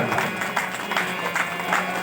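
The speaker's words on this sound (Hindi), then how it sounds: "बजाओ बजाओ ताली।" An audience at a Ram Katha festival in Delhi claps for God, a steady wash of applause with rhythmic swells, moderately loud and continuous across the short stretch.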